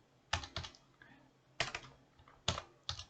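Typing on a computer keyboard while entering a formula in Google Sheets: sharp clustered key clicks in short bursts, close and clear with no talk.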